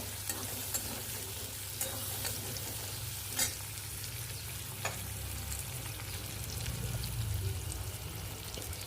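Potatoes and fried onions are stirred in a hot pan, a soft steady sizzle with occasional scraping clicks of the spoon, close and fairly quiet.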